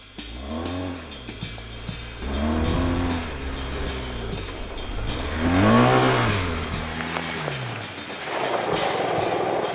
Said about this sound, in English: you can also steer the motorcycle using the rear wheel with the throttle and the rear brake